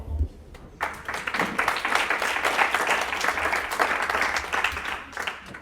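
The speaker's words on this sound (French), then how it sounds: "je pense que vraiment on peut les applaudir une seconde fois" Audience applause fills a hackathon prize-giving evening in Lyon, a dense burst of many hands clapping that starts abruptly, holds steady and loud, then tapers near the end, with a low hum underneath.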